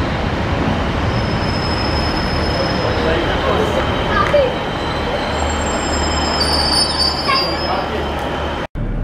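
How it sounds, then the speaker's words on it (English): A Kilmarnock to Glasgow passenger train rumbles steadily along the rails, with faint wheel squeals rising over the continuous loud roar. "the Kilmarnock train to Glasgow"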